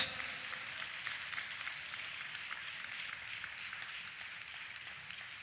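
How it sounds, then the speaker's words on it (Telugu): Steady, continuous clapping from a church congregation praising God, faint and distant, a dense patter of many hands with no voices standing out. "చప్పట్లు కొడుతూ దేవునికి స్తోత్రాలు చెప్దాం"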